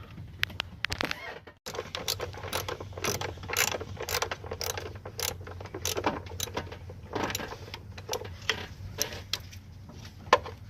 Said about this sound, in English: Next, we're gonna take this bolt out right here.